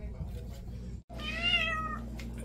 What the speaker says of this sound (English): She's a pussy cat.